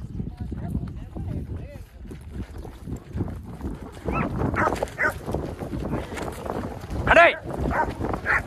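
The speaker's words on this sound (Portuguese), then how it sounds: "Cachorrada danada." Several dogs bark and yip on a cattle ranch amid handling of a Nelore bull, with scattered barks near and far mixed into outdoor commotion, while people talk and shout throughout.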